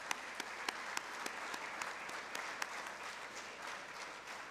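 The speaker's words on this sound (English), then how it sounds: "please join me in one final round of applause for all of our new hires" Applause from an audience at a college celebration honoring new hires, a steady, moderately distant clapping crowd with a few sharper individual claps standing out, sustained for several seconds.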